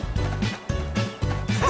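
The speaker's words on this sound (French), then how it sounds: "Là, avec deux chiens, 2 petits clébards." Two small dogs barking in Super Mario 3D World, sharp repeated yaps in a quick rhythm mixed into bouncy swing game music, fairly loud and close, with no talking.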